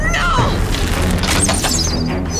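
Cannon fire in a cartoon about Romans and Egyptians comes as one loud booming blast with a crashing tail, thick and heavy over a dense, noisy background.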